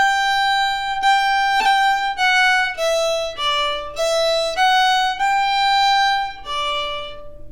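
A short jig phrase from Morrison's Jig, played solo on a clear, sustained wind-like melody instrument with a quick flick ornament on the third G, distinct stepped notes moving in lively rhythm, close and fairly loud.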